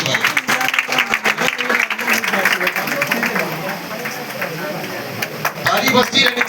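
Audience applause breaks out to welcome the host and poet at a Teachers' Day celebration at a business college, with sustained clapping and crowd noise running throughout and a fresh swell of clapping near the end.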